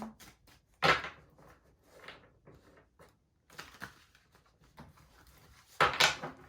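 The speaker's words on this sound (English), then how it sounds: "let's shuffle this back in" A deck of tarot cards being shuffled by hand, close up, in a series of soft riffling and tapping bursts with two sharper, louder shuffles near the start and end, separated by quieter handling.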